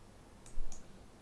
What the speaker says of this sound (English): let's get back to our report page by clicking this Done button